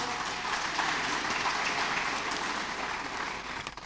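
Applause for panelists at a town hall meeting, a dense, even wash of clapping from a seated audience, moderately faint and sustained throughout.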